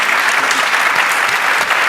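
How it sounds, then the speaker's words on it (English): An audience claps loudly and continuously for panelists at a democracy and elections event, a dense, even wash of applause with no pauses. "Round of applause for these folks, please."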